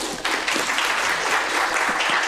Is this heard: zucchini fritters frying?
no